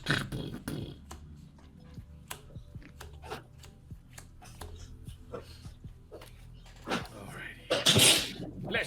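One sharp, loud sneeze bursts out near the end, during a casual tabletop card game, with people chatting, soft clicks and shuffling noises around it.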